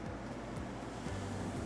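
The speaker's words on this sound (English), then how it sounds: "we've got our DR water flow being detected along with our process pump on" Steady rushing of water flowing through an HTC box washer (cassette cleaning system) with its process pump running, a continuous broadband wash with a low hum underneath and no talk.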